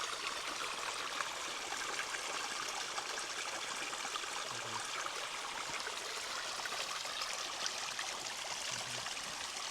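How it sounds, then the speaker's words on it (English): Small stream trickling down into a lake beside a hiking trail at Lac du Salagou, France, in early May; steady, even water flow with a soft broadband wash throughout, continuous and unbroken, no talk. "A lot of these little streams come down here"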